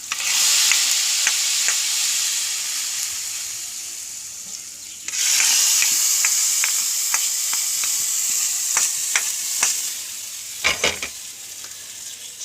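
Onion and chili tempering sizzling for egg curry, a bright continuous crackle that surges louder midway, punctuated by stirring clicks and a few sharp knocks, with no voices.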